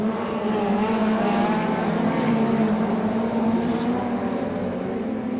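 Race cars roar around a speedway track at Robertson Prestige International Speedway, a loud, steady engine drone holding for several seconds with no break and no voices.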